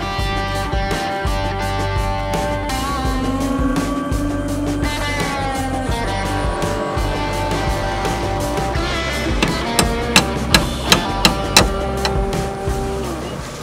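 A wooden boat under repair on a river wetland takes a quick run of about six sharp, evenly spaced hammer knocks near the end, following a long stretch of steady tonal, music-like background.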